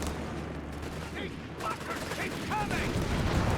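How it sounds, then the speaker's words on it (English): Explosions and gunfire from a Company of Heroes 3 World War II multiplayer battle, a dense, continuous rumble of blasts and shots filling the mix, with someone talking over it. "A bit of explosions going off by the sound of it."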